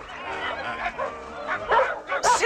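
A dog barks and yips in short bursts close by, several sharp calls toward the end, with a muffled, roomy background and some faint voice-like sound underneath.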